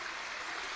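Water pouring down a rock wall at a waterfall, a steady, even hiss of rushing water, faint and continuous with no breaks.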